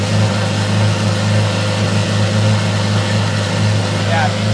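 A Lamborghini Revuelto's engine runs steadily, a constant low droning hum with little variation, heard up close without anyone speaking over it.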